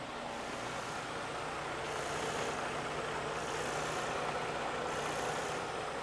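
A Freightliner Cascadia truck engine idles with a steady diesel rumble while its RPM surges rhythmically up and down in slow waves, caused by a faulty fuel meter quantity control valve.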